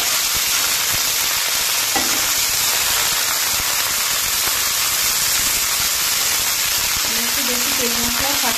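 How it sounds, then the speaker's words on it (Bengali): Cauliflower florets deep-frying in oil to a reddish-brown for a vegetarian cauliflower roast, giving a steady close hiss and crackle throughout, with a brief voice-like tone near the end. "তেলের মধ্যে খুব সুন্দর করে একদম লাল লাল করে ফুলকপিটাকে আমি ভেজে নিই।"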